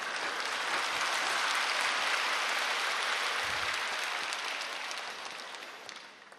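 A church congregation at a Sunday sermon breaks into sustained, loud applause, a dense wash of clapping from a large crowd that holds steady before gradually fading out.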